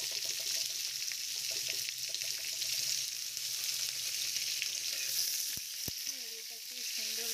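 Parboiled potatoes and cut stems fry in a pan with an even, continuous sizzle. A couple of sharp utensil knocks sound near the end, and faint music plays underneath.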